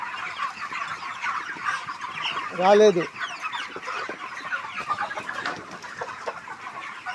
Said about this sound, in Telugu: మా కోళ్ళు వచ్చేసి చూడండి ఎంత ఆరోగ్యంగా ఉన్నాయో